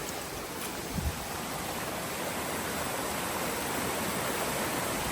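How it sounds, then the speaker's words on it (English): A big waterfall below a campsite ledge on the Appalachian Trail in Maine roars as a steady, broad rushing wash of falling water, close and constant throughout. "I'm sleeping right over a big old waterfall."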